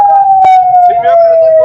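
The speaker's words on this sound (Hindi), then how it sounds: "एम्बुलेंसेस मुड़ रही है।" An ambulance siren wails at a steady, loud level as ambulances turn near a crowded political rally at Liaquat Bagh in Rawalpindi, with a brief thump partway through.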